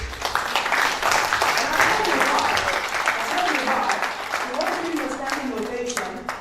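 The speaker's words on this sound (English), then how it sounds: "Let's give him a round of applause, please." A crowd applauding steadily at a talk and book launch, dense clapping that holds throughout, with voices murmuring and calling out underneath.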